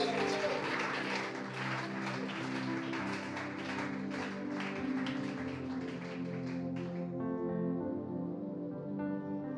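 A church congregation claps and cheers in praise of Jesus, a dense rhythmic clapping that carries for most of the clip over sustained music, then gives way to steadier music near the end.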